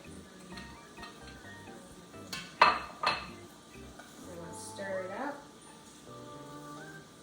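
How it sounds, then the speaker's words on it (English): Corn being mixed by hand in a bowl: a utensil scrapes and clinks against the bowl, with a couple of sharper knocks, close and moderate, while a person talks over it. "Now I'm going to mix this into the corn."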